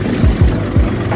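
A tractor engine runs on a road on the way to a village market, its low rumbling note pulsing in a few quick surges, loud and close, with no talk over it.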